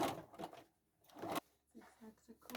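Short bursts of a sewing machine zigzag stitching the corners of an upcycled bag, quiet, fast rattling runs separated by pauses, with a voice speaking between them.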